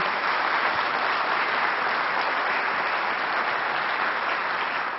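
Steady, dense applause from an audience, many hands clapping continuously at an even volume throughout.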